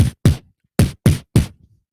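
A voice imitating a kick drum in beatbox style, heard as five short, punchy bass thumps in an uneven rhythm, close and dry with silence between hits.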